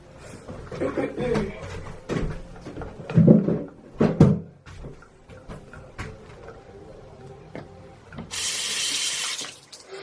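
Tap water runs into a sink while a makeup brush is rinsed, splashing and gurgling in uneven bursts with a few clatters, ending in a louder steady stream.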